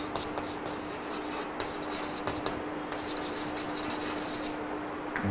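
Steady scratchy rubbing of a marker or chalk writing on a board during a physics lesson, a continuous close texture with a few brief accented strokes and no talk.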